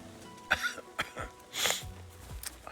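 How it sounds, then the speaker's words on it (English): A character in the video game Beast of Reincarnation gives a few short, dry coughs spaced over a couple of seconds, fairly close and alone without talk. "It's just a small cough."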